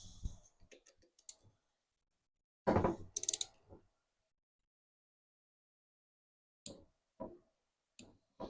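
A ratchet wrench clicks in short bursts while tightening engine head bolts in a crisscross pattern, with several separate rounds of quick clicking broken by silent pauses, close and fairly quiet.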